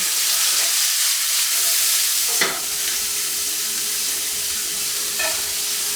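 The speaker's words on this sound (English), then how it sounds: "We got a really hot pan. We already did our mousse. We're gonna pop our peppers and our onions in." Peppers and onions for moose fajitas dropped into a very hot pan, a loud, dense sizzle and hiss close up, with a clatter of stirring near the middle.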